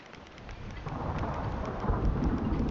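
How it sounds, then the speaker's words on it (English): A thunderstorm in the survival game Survival: Fountain of Youth rumbles with low rolling thunder under a steady wash of rain, swelling louder toward the end. "There's a storm coming up."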